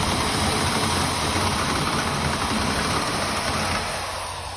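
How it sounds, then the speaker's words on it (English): A Sawzall fitted with a fine-tooth metal blade cuts through the end of hardware cloth with a loud, steady buzzing motor drone that runs evenly for a few seconds, then eases off at the end. "how quick a Sawzall with a good quality fine-tooth metal blade cuts through the end of this hardware cloth"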